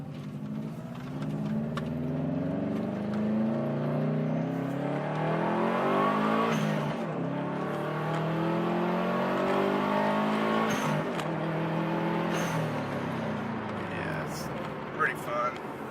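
A 2002 Subaru WRX accelerates in first gear, its engine note climbing in a loud, close, rising drone that swells and eases back in repeated pulls, heard from inside the car.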